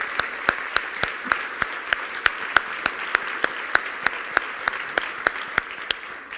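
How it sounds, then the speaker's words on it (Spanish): Steady, rhythmic clapping with sharp, evenly spaced claps over a bed of crowd noise, continuing throughout, at the opening ceremony of a national tourism forum. "un fuerte aplauso a Fernando Martín por ese evento."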